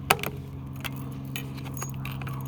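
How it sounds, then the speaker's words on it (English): Tarot cards are shuffled close by in quick, crisp riffles, with sharp papery snaps at the start and lighter flicks scattered through, all over a low steady room hum. "I love the way these cards shuffle."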